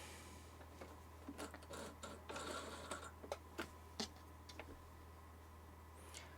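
A home sewing machine with a bobbin case under repair runs a zigzag stitch in short, uneven bursts of ticking mechanical clatter, faint and close, with brief pauses between runs.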